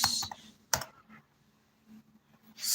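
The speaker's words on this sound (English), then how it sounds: "sorry for my slow typing" Slow typing on a computer keyboard, a few separate clicks and taps with long pauses between them and faint background hum.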